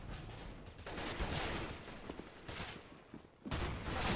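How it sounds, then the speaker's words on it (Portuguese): Gunfire in the video game CS:GO, dense bursts of rapid shots forming a continuous crackling fusillade at moderate level, with brief lulls between volleys and no talk. "Ah, errei esse tiro no BK"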